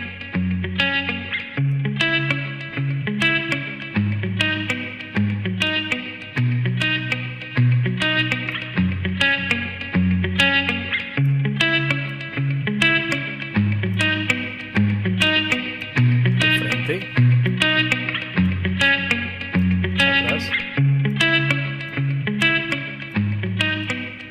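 Music processed through a TC System 6000 VSS4HD reverb plugin, a steady, loud distorted guitar-like riff with rhythmic chords and sustained reverberant tails running throughout, with no talking.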